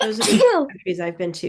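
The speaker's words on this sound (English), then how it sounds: "Is somebody else sneezing?" A single sudden sneeze from someone in an in-person classroom, overlapping a person who is speaking nearby.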